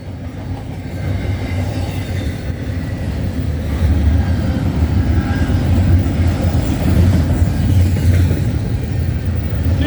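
CN freight train 186, eastbound from Prince Rupert, BC to Montreal, rolls past a Cobourg, Ontario station at night: a loud, continuous low rumble of wheels and cars, swelling slightly midway, with no talk.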